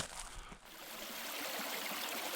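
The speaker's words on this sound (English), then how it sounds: "This is a video of the creek here in section 9." A creek in section 9 of the Pinhoti Trail flows steadily, a close, even rush of water that trickles and babbles without a break.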